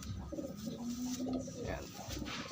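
Pigeons coo close by, a soft throaty murmur with one longer drawn-out note, under brief bits of nearby talking.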